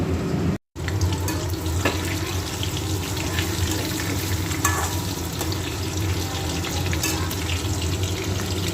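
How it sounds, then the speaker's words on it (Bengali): Pakoras frying in hot oil give a steady, loud, even sizzle that fills the whole stretch, with one brief dropout near the start. "পকোড়াগুলো ভাজা হচ্ছে"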